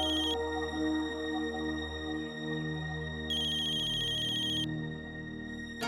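A phone ringtone for an incoming call rings in repeated electronic bursts, a short one at the start and a longer one a few seconds later, over quiet background music in a television drama scene.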